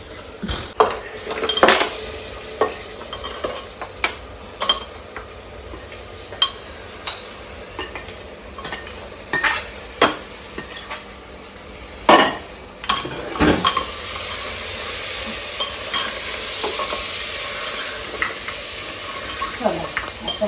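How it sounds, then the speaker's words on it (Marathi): Masala with chilli seeds and jaggery being stirred in a pan, a steady run of scraping spoon strokes and clinks against the metal over a low sizzle, close and fairly loud, with no talk. "आता आपण याच्यामध्ये सर्व असा मिक्स करून घेऊ आणि लगेच गूळ टाकून घेऊ."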